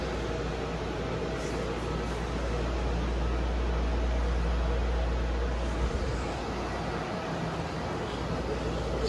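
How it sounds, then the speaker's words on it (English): Steady, loud broadband roar of air conditioning fills a large aviation and space museum hall, a constant low rumble and hiss with no pauses. "that air conditioning is very loud."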